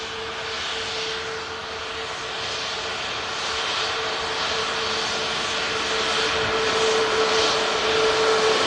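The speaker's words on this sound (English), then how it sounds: "So a lovely couple of aircraft on the way out" Jet airliners, including Airbus A350s, depart Manchester Airport with a steady, loud roaring engine drone that builds gradually and holds a sustained whine without pause.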